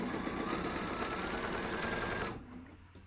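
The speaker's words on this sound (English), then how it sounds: "So I'm going to sew this and let's just see" A sewing machine stitches a Golden Gate quilt block in a rapid, even mechanical patter for about two seconds, then stops, leaving near silence with a faint click at the end.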